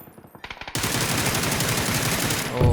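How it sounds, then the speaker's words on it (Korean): Beryl assault rifle fire in PUBG, first a few spaced single shots, then loud continuous full-auto bursts close up, without pause to the end. "확실히 베릴 쏠만하다."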